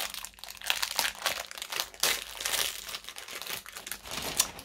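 Crinkly plastic packaging around a pack of stickers being torn open and handled, giving close, loud bursts of crackling and crumpling that run continuously in irregular waves with no talk.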